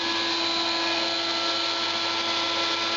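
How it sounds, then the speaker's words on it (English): A vacuum forming machine's vacuum pump runs steadily, a loud continuous motor whine with a constant hiss and hum that holds unchanged throughout, with no talking. "You just leave the vacuum running for long enough to make sure that it sucks all the air out"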